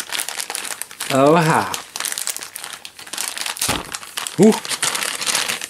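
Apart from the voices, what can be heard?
rummaging through a bag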